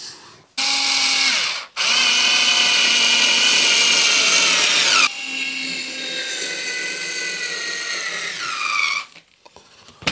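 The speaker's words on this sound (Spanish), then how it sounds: "Y aquí, pues ponemos los tornillos." A power drill drives screws into wood in a woodworking shop while a sliding side push block is built, with two loud, sustained whining runs that rise in pitch and stop abruptly, then a brief clatter.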